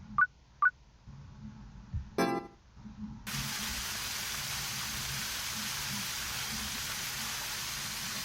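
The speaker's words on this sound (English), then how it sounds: "Falling from a white sky, small drops of water, raindrops." Steady rain falls as a constant hiss in the video game Ame no Marginal, after a few short electronic beeps and a brief crackling burst at the start.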